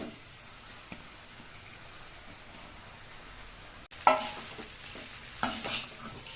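Cooked rice drops into a pan of mutton fried rice, setting off a sharp rise of sizzling followed by scraping stirring strokes, with a quieter low frying hiss before it.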